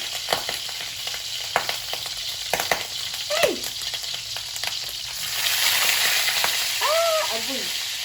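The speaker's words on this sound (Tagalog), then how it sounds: "naipainit at mantika. Ato na ibutang na atong karne." Pork trotters fry in hot oil with a steady sizzle that swells louder midway, alongside a few sharp pops and short exclaimed voices close by.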